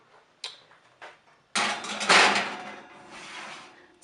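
A greased pizza pan holding dough slides into a preheated 420-degree oven: a few light metallic taps and clinks, then a louder scraping slide and rattle of the pan on the rack, close by and with no talking.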